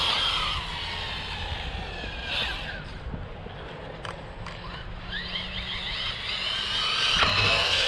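A small electric RC car drives over rough ground and jumps, its high-pitched motor whine rising and falling in bursts with brief thumps and scrapes, heard close in an open outdoor space.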